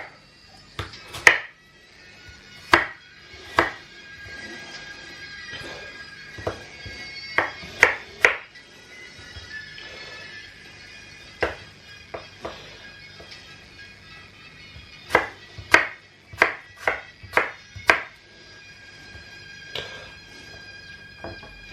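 A knife chops vegetables on a board for apple slaw, giving irregular sharp taps, some in quick bursts and others spaced out, close and fairly loud over a quiet room.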